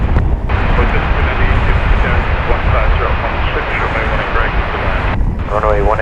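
Envoy aircraft landing on runway 18 right at DFW Airport, a steady loud jet engine roar that fills the clip, with an air traffic radio voice coming over it near the end.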